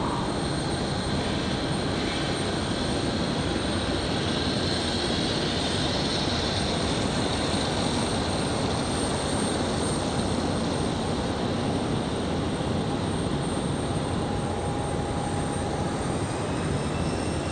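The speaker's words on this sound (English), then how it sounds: "Iceland on the push. The A321LR getting ready for departure." Icelandair Airbus A321LR jet engines running as the airliner readies to depart, a steady moderate whine and rumble with a faint thin tone, continuous and without voices.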